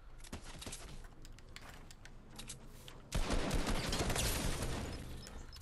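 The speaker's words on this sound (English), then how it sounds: "the AR sounds different" Rapid assault rifle gunfire in Fortnite, crackling in scattered bursts at first and then swelling into a dense, loud sustained volley.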